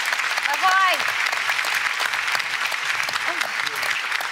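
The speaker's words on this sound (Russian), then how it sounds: "Прошу вас, Сергей, вам аплодисменты." Steady applause from a studio audience on the Russian TV game show Sto k odnomu, continuous even clapping throughout with a few voices speaking briefly over it.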